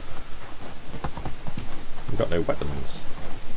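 A horse gallops fast through the woods in Medieval Dynasty, its hooves pounding in a quick, loud, steady rhythm while someone speaks over it.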